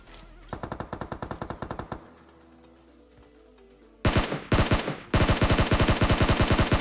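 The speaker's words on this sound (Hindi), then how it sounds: "यहाँ पे गाइस सामने की तरफ फायरिंग चलती है" Rapid bursts of automatic gunfire in a solo-versus-squad battle royale video game: a sustained string of close shots, a lull with low background noise, then loud, dense volleys that continue to the end.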